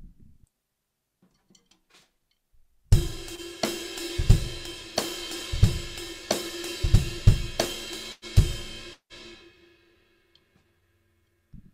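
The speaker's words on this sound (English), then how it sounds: "if you play it with your standard ride, it would sound something like this." A standard undampened ride cymbal carries a groove of bright, ringing strokes with wash that builds and sustains, accented hits every second or so over soft low drum thumps, starting after a quiet lead-in and fading at the end.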